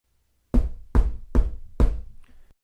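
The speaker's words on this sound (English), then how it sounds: "The two friends knocked on the door and waited." Four firm, evenly spaced knocks on a door ring out close and loud, followed by a faint rustle and then quiet.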